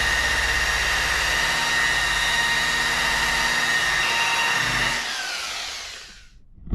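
Power buffer grinding steadily against windshield glass to polish out aluminum marks and scratches, a loud continuous whirring drone that holds for about five seconds, then tapers off as the tool winds down.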